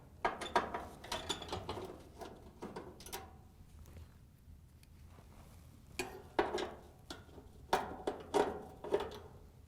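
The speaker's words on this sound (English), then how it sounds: "we can take a 5/16 inch nut driver and we're going to remove these screws that hold the bracket to the bottom of the dryer" A 5/16 inch nut driver backs screws out of a bracket on the bottom of a Maytag gas dryer, giving quiet, close bursts of ratcheting clicks and small metallic turns with short pauses between them.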